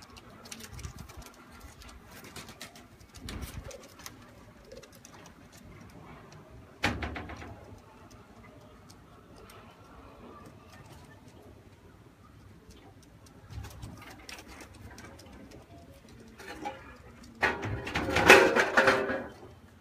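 Teddy pigeons cooing softly in a loft, faint low coos scattered through quiet background, with occasional knocks and a louder burst of fluttering and calls near the end.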